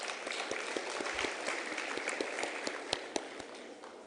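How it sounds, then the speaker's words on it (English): Sustained applause from an audience at a women in science awards ceremony, many hands clapping in a dense wash with distinct individual claps standing out, steady and moderately loud throughout. "A round of applause, please."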